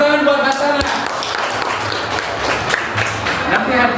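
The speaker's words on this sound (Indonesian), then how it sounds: "Tepuk tangan buat Hasanah." Schoolchildren in a junior high classroom clap together for a classmate who answered correctly, a dense steady burst of applause running the whole time with a teacher's voice and children's chatter mixed in.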